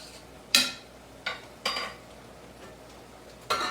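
A pot of rice shifted to a back burner to simmer, with a few sharp metallic clanks of the pot against the stove grate, spaced irregularly over a quiet background.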